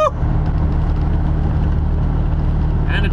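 A heavy-haul truck carrying an oversize load rolls by on a highway, a loud steady low rumble of engine and road noise heard from inside a truck cab, with a brief higher tone near the end.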